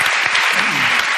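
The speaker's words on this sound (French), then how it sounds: "Et on applaudit Paul Oud." Loud, dense studio-audience applause on a television game show, a brief unbroken burst of clapping.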